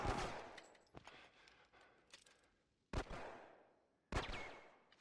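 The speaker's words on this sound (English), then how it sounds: "Stop shooting at me!" Gunfire in a ragdoll video game: several sharp, loud shots burst out at irregular intervals, each trailing into a decaying rumble, with quieter crackling between them.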